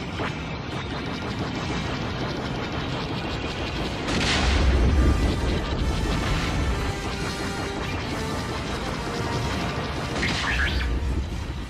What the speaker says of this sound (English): Huge explosions.